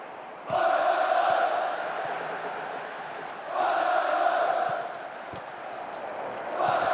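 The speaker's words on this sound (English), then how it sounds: "The rhythmic chanting of the crowd. So many of them on their feet." Stadium crowd chanting in the PES 10 football video game, rhythmic swells of many voices rising and falling in repeated waves, fairly loud and sustained throughout.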